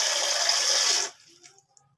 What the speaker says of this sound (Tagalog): So buhos natin, hindi natin pong haluin.